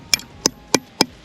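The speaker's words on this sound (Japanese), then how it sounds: "これのおかげで、ペグハンマー代わりになるっていう" A heavy camping gear item serves as a peg hammer, striking a tent peg into hard ground with four sharp, evenly spaced knocks, close and distinct.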